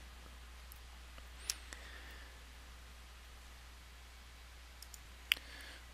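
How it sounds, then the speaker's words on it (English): Computer mouse clicks, two sharp isolated clicks and a few fainter ticks, close and quiet over a low steady hum, with no talk. "And then I'm going to right click to set that action that we've just taken."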